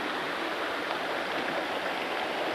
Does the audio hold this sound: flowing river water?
yes